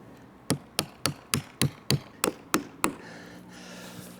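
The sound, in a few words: hammering nails into roof fascia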